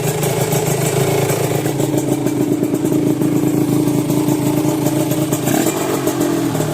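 A motorcycle engine with no engine oil runs loud and rough up close, with a harsh mechanical clatter over the steady rumble and a brief shift near the end.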